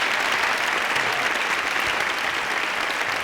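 Sustained audience applause at a talk with Martina Navratilova, dense and even clapping from a large crowd filling the whole stretch without pause.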